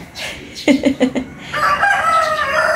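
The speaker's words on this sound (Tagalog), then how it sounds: "ginigising siya ng mga huni ng ibon and manok" A rooster crows nearby, a clipped series of notes rising into a drawn-out, strained final call.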